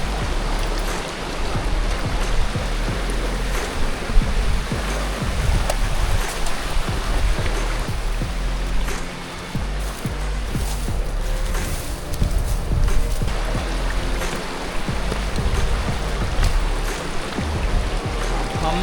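A cold mountain stream on the trail to Adam's Peak rushes strongly and steadily, a dense, loud wash of flowing water with no break throughout.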